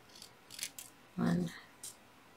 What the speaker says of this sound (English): I'm just going to quickly do this with scissors,